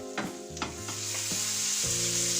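Rice sizzling in hot oil in a pan for saffron paella-style rice, a steady bright frying hiss with a few clinks of stirring early on, no voices.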